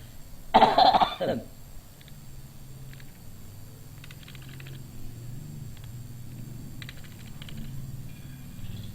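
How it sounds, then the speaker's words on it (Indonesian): A single short burst of coughing near the start, followed by quiet room tone with faint keyboard tapping. "Udah malam, jadi suaranya batuk."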